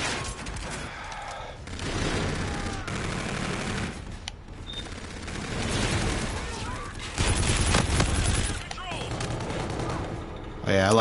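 Rapid light machine gun bursts in Call of Duty: Infinite Warfare keep up a dense, loud chatter for most of the stretch, with only short pauses between sustained volleys.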